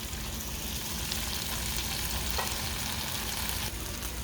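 Food frying steadily in a pan, a continuous close sizzle with a brief utensil scrape partway through.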